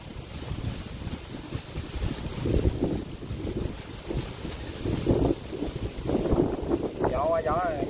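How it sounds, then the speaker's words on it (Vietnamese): Strong wind gusts buffet the microphone outdoors in open fields, a rough, blustery roar rising and falling continuously with a voice speaking faintly beneath it. "Gió quá, gió nhà thông cảm nha."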